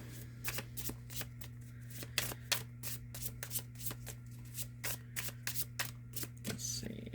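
Tarot cards are shuffled by hand in a quick series of crisp riffling bursts, close and clear over a low steady hum, with a faint voice in the background.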